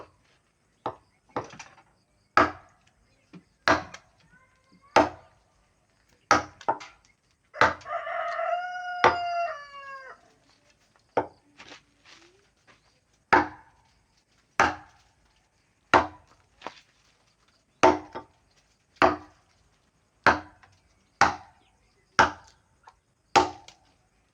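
Axe blows chop into wood while building a wooden boat, about twenty sharp, evenly spaced strikes ringing out close by, interrupted midway by a rooster crowing in the background.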